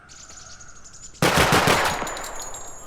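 A sudden loud burst of rapid automatic gunfire from a weapon in the video game Project Silverfish, cutting in after a quiet ambient stretch with a high bird-like tone, then ringing and fading slowly.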